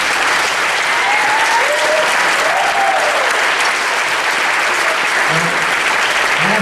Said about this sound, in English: let's give Shanlea a round of applause.